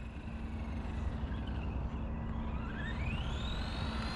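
Arrma Granite Mega RC truck on a nickel metal hydride battery at full throttle, a continuous whining motor hum that rises in pitch as it speeds up, heard from a moderate distance.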